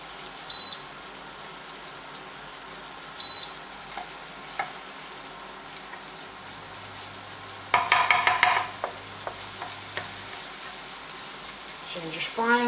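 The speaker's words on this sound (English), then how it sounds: "Don't want to burn that garlic, just want to fry it up a bit in this oil" Garlic fries gently in oil with a soft, steady sizzle, broken by a few clinks and a burst of stirring.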